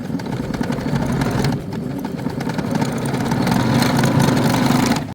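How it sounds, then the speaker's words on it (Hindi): A sewing machine stitches a lace border onto a kurti sleeve at a half-inch margin, running in a loud, continuous mechanical whir close by. "1/2 इंच के मार्जिन से हम इस पर सिलाई लगाते जाएंगे"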